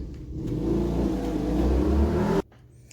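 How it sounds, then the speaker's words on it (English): A very loud motorcycle roars past nearby, its engine revving and building in a heavy rumble for a couple of seconds before the sound cuts off sharply. "There was a very, very loud motorcycle."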